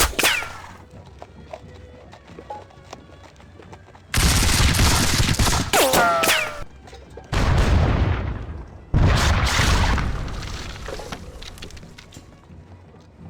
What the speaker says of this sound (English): I like to just go down the line doing all my shooting to try not to miss anybody